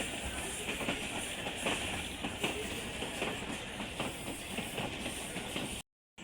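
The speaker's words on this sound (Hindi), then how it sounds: "ये फाटक है और यहाँ से ट्रेन गुज़र रही है" A train rolls past a railway crossing on a journey in Sindh near Jamshoro, a steady rumble with hiss and faint clickety-clack of wagons that stays loud and close throughout before cutting out abruptly near the end.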